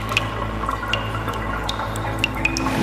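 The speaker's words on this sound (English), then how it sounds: "In certain tunnels, water flows in from the city's drainage system" Water drips and splashes inside Las Vegas underground drainage tunnels, scattered sharp drops landing over a steady low rumble of flowing water and hollow tunnel ambience.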